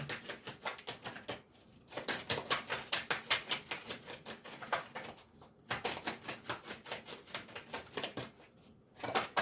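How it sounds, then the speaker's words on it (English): Rapid rhythmic riffling and flapping of a tarot deck being shuffled in repeated bursts with short pauses between, close and fairly quiet. "Two more shuffles and I'll pull from the top"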